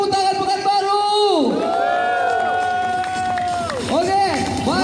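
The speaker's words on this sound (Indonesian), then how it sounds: "mari kita berikan tepuk tangan yang luar biasa untuk tamu kita" A live audience at an event in Pekanbaru cheers, whoops and claps loudly and continuously, with rising and falling shouted voices carrying over the crowd noise throughout.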